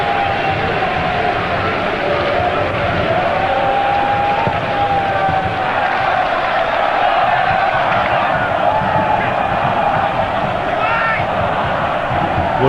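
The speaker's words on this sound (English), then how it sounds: "Rapturous applause for Martin's catch" Football stadium crowd in Belgrade at a Partizan Belgrade versus Leeds United match, roaring and applauding a goalkeeper's catch; a dense, loud, continuous wash of crowd noise under a commentator's voice.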